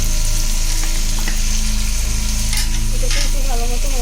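Chicken pieces and potatoes frying in oil with spice masala for a chicken and egg biryani, a loud steady sizzle with stirring scrapes throughout, close up and without talk.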